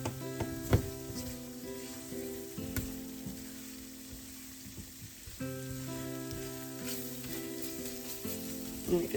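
A pan sizzles steadily while drippings are scraped up from the bottom to make gravy after frying Southern pork chops, with scattered scraping and stirring clicks over a continuous hiss.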